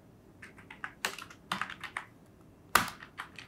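A computer keyboard clatters as CSS code is typed, light key taps in short bursts broken by a few sharper, heavier strikes, close and alone without speech.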